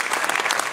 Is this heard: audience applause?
yes